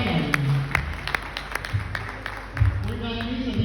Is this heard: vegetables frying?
no